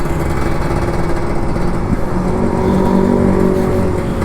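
A Kawasaki Ninja RR 150 motorcycle engine runs steadily and loud, its buzzing drone holding a fairly even pitch with slight rises as the throttle is worked, with no voices.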